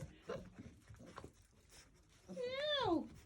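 Six-week-old Sheepadoodle puppies whimper softly. Scattered faint whines and breathy sounds come first, then a louder, drawn-out whine near the end, all close and indoors with no talk.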